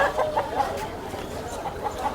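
Chickens at Gokavaram cluck in short, repeated bursts nearby, with several birds calling over a faint background.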